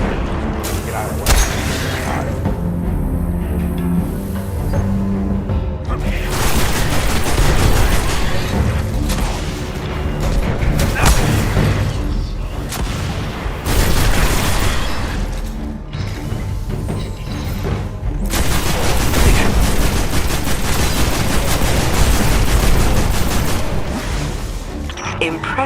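In the video game Destiny, weapon fire and explosions play as a dense, loud stretch of gunfire bursts, heavy booms and mechanical clatter, sustained across the whole passage with voices talking over it at times.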